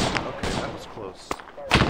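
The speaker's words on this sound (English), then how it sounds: "That was an RPG." Loud weapon blasts in a Vietnam-era firebase defense video game, with a sharp explosive rocket-like bang near the end among several other bursts of gunfire and noisy battle ambience.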